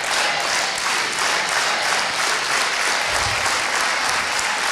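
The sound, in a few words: audience unity clapping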